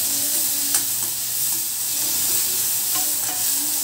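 Tomatoes sauté in hot oil with ginger for a goat brain fry, giving a loud, steady sizzle with a few faint stirring clicks, close and continuous with no voices.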